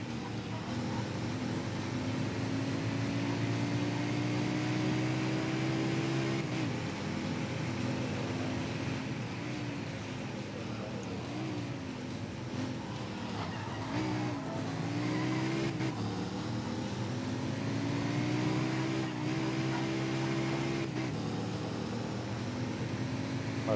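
McLaren SLR engine accelerating hard in the racing game Mercedes-Benz World Racing on the Hockenheim track, a steady loud drone climbing in pitch through several gear shifts, with no talking.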